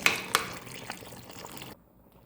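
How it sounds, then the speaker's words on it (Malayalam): Boiling water poured into a pot of fried rice for vegetable biryani makes a short splashing pour with a couple of sharp spatters at the start, tapering off and falling quiet after a second and a half. "വറുത്ത അരിയിലൊക്കെ തിളച്ച വെള്ളമായിട്ട് കൊടുക്കുന്നത്"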